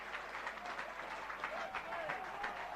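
Rugby league crowd at an Oldham versus Hull Kingston Rovers match applauds players leaving the field, a steady wash of clapping and crowd noise with voices mixed throughout.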